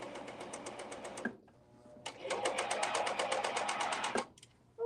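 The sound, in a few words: serger sewing fabric with differential feed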